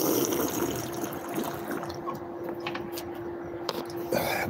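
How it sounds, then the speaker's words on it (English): Water from a public drinking fountain running steadily into a bottle, a continuous gushing stream with a faint steady hum beneath it and a few small clicks and knocks. "God bless that water fountain"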